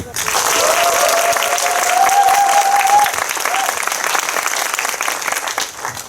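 An audience at a film screening Q&A for Deliver Us From Evil at Megabox COEX in Seoul breaks into loud, sustained applause, dense clapping from a large crowd lasting around six seconds with a voice briefly over it.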